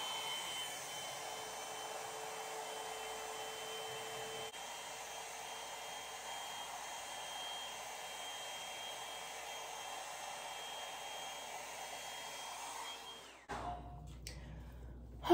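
A Revlon blow dry brush runs steadily while drying hair, a faint, even motor hum with airflow lasting most of the time, then cutting off near the end, followed by brief handling noise.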